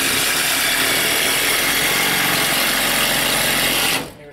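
Power drill driving Phillips screws while a tent stove is installed in an off-grid shed, a steady loud whirring buzz held for about four seconds before cutting off abruptly.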